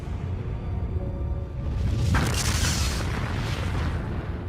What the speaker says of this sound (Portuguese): mais de 400 ogivas russas foram detonadas em explosões poderosas